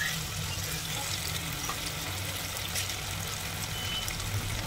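Chicken masala sizzles and fries in a pan as water is added, a steady hissing crackle with constant loudness and no talking.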